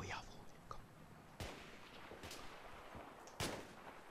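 Sniper rifle shots in a video game, three sharp, distinct cracks spaced about a second apart over quiet ambient noise, with a faint murmured voice underneath.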